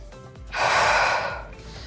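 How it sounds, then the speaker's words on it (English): A deep breath taken during a Pilates exercise, with a long, airy inhale-exhale swelling and fading near the microphone for about a second, heard alone with no talk over it. "Nice deep inhale, nice deep exhale."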